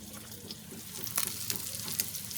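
Sliced kikiam sautéing in a pan with onion and garlic for pancit bihon, a steady close sizzle broken by a few sharp stirring scrapes and clicks, with no talking.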